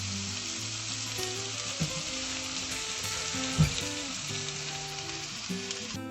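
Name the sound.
tomatoes sautéing in a pan for coconut milk soup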